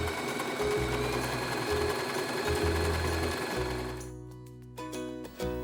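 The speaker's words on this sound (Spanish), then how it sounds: "La haríamos sin tensión y con la puntada más larga." Domestic sewing machine running a long, untensioned straight seam with its longest stitch length on costume fabric; a steady, loud mechanical whir that holds for about four seconds, then breaks into short stops and restarts.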